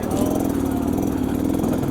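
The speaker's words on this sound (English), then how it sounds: "This is the XTrainer 300 2-stroke." A Beta XTrainer 300 two-stroke motorcycle engine runs close by, a raspy buzzing drone with a fast, pulsing beat that stays steady and loud over the short stretch.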